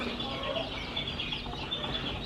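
Chickens cluck and murmur close by at a dairy farm, a continuous low chatter of several birds with no distinct crowing and no talking.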